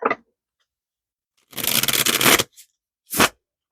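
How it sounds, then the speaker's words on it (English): A deck of Wiser Tarot cards is shuffled nearby: one sustained riffling burst lasts about a second, followed by a couple of short crisp card snaps, with no talk. "3 good shuffles for Kamala, Vice President Kamala Harris, and the November 5th, 2024 presidential election."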